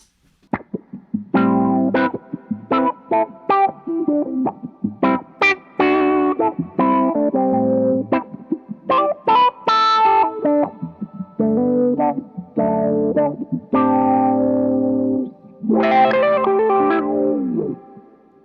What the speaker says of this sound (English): one of my favorite sounds, the envelope filter